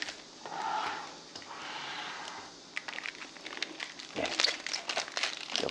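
Plastic wrap crackles and crinkles as it is peeled off a Montera camping table during unboxing, with soft rustling early on and then sharper, denser crackles close by.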